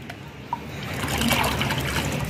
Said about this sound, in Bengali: এবার আমি এই প্রত্যেকটা বড় গাছে 1-1 করে কিন্তু আমি আমার এই 10-26-26 গোলা জল দিতে থাকবো।